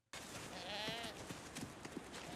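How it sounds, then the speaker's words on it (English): Goats bleating in a single wavering call near the start, followed by a few shorter bleats over steady background noise, fairly close. "Fucking goats. I love goats."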